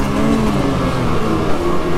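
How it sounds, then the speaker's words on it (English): A turbocharged 2025 Freeride Turbo 146 mountain snowmobile engine revs loud and close, a steady dense roar with slight rises in pitch throughout. "Back on a mountain sled today with a turbo that you can actually hear"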